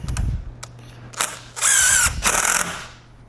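A power drill drives a screw into a twig-pieced wooden sculpture: a few short clicks and taps, then a loud, close whine lasting about a second that stutters and fades.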